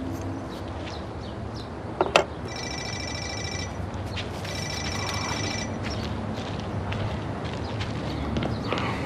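A telephone rings indoors in two short bursts of electronic trilling, fairly faint, against a quiet background with a few soft knocks and no talk.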